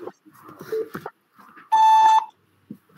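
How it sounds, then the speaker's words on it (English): A single sustained electronic beep, clear steady tone lasting about half a second, sounds loudly during an online video call, just after brief speech and followed by quiet. "Please start after the beep sound."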